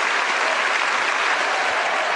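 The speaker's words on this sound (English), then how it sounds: "We should give a round of applause for the other two" A radio panel-show audience applauds with dense, steady clapping throughout, loud and close, with no voices standing out.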